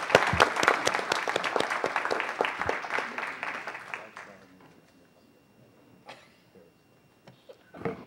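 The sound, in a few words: applause at a council meeting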